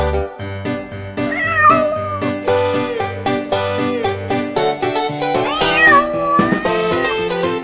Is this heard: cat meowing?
yes